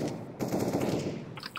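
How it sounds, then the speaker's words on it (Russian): Rapid automatic gunfire from the video game Counter-Strike: Global Offensive (CS:GO): dense, loud bursts of shots that run almost without a break through the short stretch, with a few sharper cracks near the end. "я в голову стреляю"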